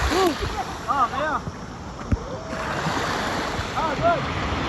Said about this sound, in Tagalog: Ang sarap ng alon talaga.